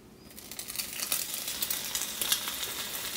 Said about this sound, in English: I'm now going to place these slices in the cast iron skillet.